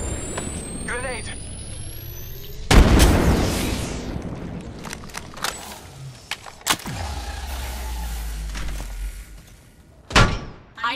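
A grenade blast in the Apex Legends video game lands as a sudden heavy boom that fades slowly, surrounded by scattered game impacts, with a character's voice calling out nearby and a second thud near the end.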